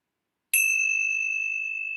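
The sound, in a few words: ringing of a meditation bell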